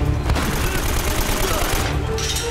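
Gunfire in Uncharted: Drake's Fortune Remastered during a wave of enemies, a dense, continuous fusillade of shots that runs through the whole moment with a voice talking over it.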